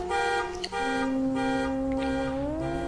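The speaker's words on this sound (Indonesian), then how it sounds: "alarm mobil yang waktu itu tiba-tiba berbunyi dengan sendirinya" A car alarm blaring on its own, a loud, steady electronic tone with buzzing harmonics that holds and then rises in pitch near the end, with no voices.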